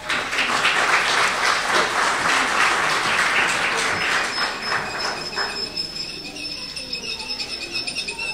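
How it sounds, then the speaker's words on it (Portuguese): Applause from an audience after a performance, loud and dense for several seconds, then thinning to scattered claps, with some background noise at the end. "Um aplauso para eles."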